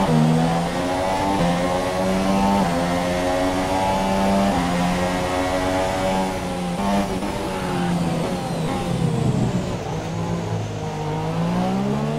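Race start in the F1 2017 video game: a pack of high-revving Formula 1 engines roars continuously, pitches climbing and shifting as cars accelerate away, loud and dense with overlapping engine whines throughout.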